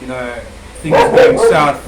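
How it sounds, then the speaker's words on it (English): A dog barks a few quick times partway through, loud and close behind a person talking over it. "excuse the dog in the background"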